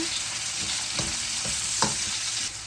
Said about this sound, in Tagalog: isunod na po natin ang ating kamatis. Halu-haluin lang.